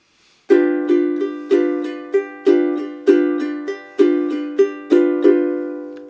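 Ukulele split strokes, strummed alone in a steady, even rhythm: about a dozen crisp chord strikes in paired accents, each ringing briefly before the next.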